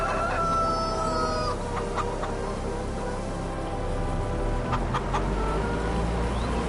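Chickens clucking with a rooster-like crowing note in Farming Simulator 22, steady and fairly loud over a constant low machinery hum, with a few sharp clicks scattered through.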